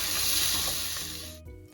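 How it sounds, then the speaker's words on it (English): Chopped garlic, spring onion, carrots and peas sizzling in hot olive oil, a bright hissing fry that fades over about a second and a half before a quiet stir, close and unaccompanied by talk. "we're going to add in 2 chopped garlic cloves, along with our spring onion,"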